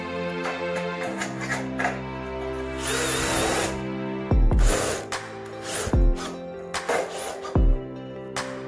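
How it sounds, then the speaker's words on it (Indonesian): Power drill driving light steel screws into the corners of a light steel door frame for a bathroom, with short whirring bursts stopping in a few sharp heavy clunks. "Untuk masing-masing sudutnya kita kasih 1 buah baut baja ringan dulu."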